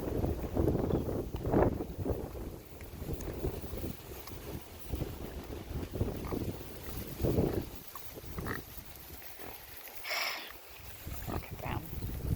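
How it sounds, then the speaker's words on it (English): Gusty wind buffets the microphone around an outdoor farm pen holding newborn piglets, rumbling and fluttering continuously, with occasional faint grunts from the pigs mixed in. "this wind that's just picking up here. You can see everything's blowing around"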